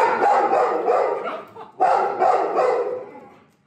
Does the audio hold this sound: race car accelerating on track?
no